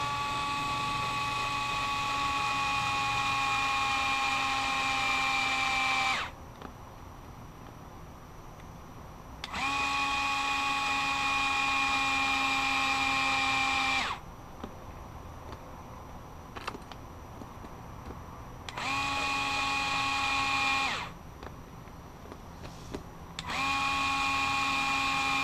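A power drill driving screws into a plastic front differential case on a D815 whines in four separate runs of a few seconds each, with quiet pauses between them. The sound is moderately faint and there is no speech.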